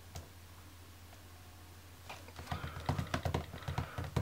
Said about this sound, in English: now if I go to type something, if I write an email for instance